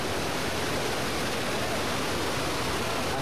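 River running with a large flow, a dense, steady roar of rushing water filling the scene with no breaks, loud and close.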